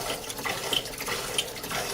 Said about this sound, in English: we can flush all of the ports on the endoscope in less time than competitive units